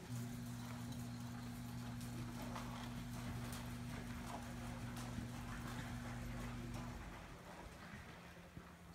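Steady rhythmic clip-clop of a cutting horse's hooves on the ground during cutting practice, continuous throughout, with a low droning hum underneath that cuts out near the end.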